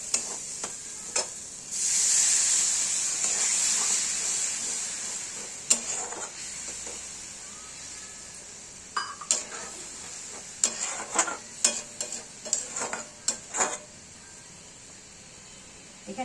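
Mustard masala sizzles in a pan as water goes in, a burst of hissing steam followed by lighter bubbling and scattered clinks of a spoon against the pan.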